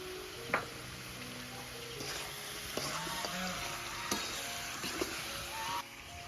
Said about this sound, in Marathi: मसाला छान असा परतलाय